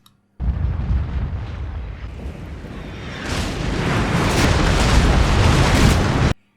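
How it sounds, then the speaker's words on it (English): Cannons firing in a battle scene with no music, a dense, sustained roar of booming blasts that builds louder and brighter partway through and continues to the end without a break. "and then the cannons start firing"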